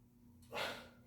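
A slow inhalation during a yoga balance pose, a soft airy breath swelling up near the microphone for about half a second after a quiet start, then easing off.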